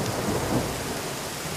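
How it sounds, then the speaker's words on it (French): Steady rain with rolling thunder over a city, a dense, continuous wash of loud broadband noise with a low rumble swelling briefly early on and no voices. "la pluie."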